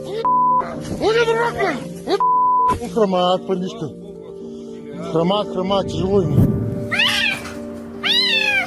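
A trapped kitten meows repeatedly in high, plaintive cries, close by, with short gaps between calls and some electronic beeps mixed in.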